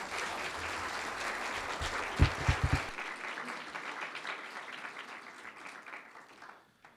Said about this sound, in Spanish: Les pido, por favor, un aplauso para mi compañero